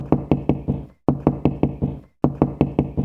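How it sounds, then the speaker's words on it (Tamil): Knocking on a door at night: three bursts of four to five sharp, loud raps each, close by, with short silent gaps between the groups. "யார் இன்னாதுக்கு கதவு தட்டுறதுன்னு தெரியலையே"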